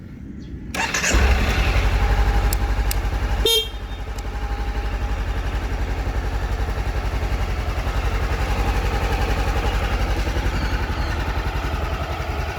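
A 2016 Honda CB500X motorcycle cranks and catches loudly after a click, then a second engine sound kicks in before it settles into a smooth, steady, close idle that runs on evenly with no talk.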